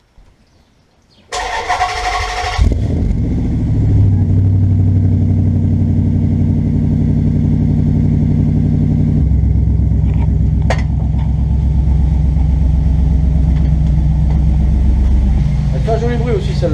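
A 2006 Dodge Charger SRT8 V8 with stainless exhaust lines cranks and catches with a sharp burst, then settles into a loud, deep, steady rumbling idle that holds close and continuous to the end.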